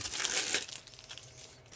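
A plastic packaging bag tears open with a short crinkling rip, close and fairly loud, then fades to faint rustling.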